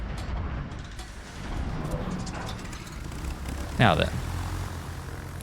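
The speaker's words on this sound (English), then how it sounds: "Airplanes are back." Aircraft engines drone through a World of Warships naval battle, a steady propeller hum with a brief louder mechanical rattle near the end, while someone talks over it.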